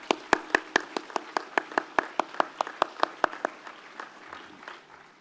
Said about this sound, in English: Let's give a round of applause to the graduates who have just been presented.